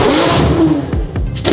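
A Lamborghini engine revs hard and loud up close, with short sharp bursts of throttle rising and falling in quick succession.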